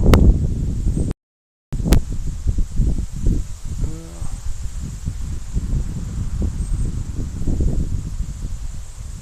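Gusty wind buffets the microphone with low rumbling blasts, broken by a brief dropout, with faint background noise throughout.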